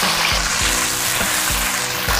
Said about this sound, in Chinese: 腌制好的巨鱼下锅先煎一下